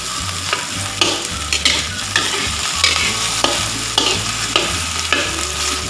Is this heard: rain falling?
no